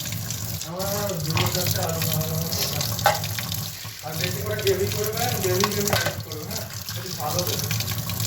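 Potatoes being rinsed under a running kitchen tap, a steady splashing stream of water into a sink that continues throughout, with voices talking over it in the background.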